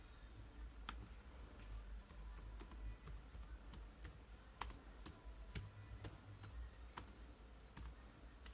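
Close, quiet typing on a computer keyboard at a home gaming and streaming desk, with scattered single key clicks and short runs in an uneven rhythm, no voices.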